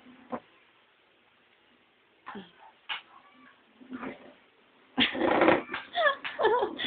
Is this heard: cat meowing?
yes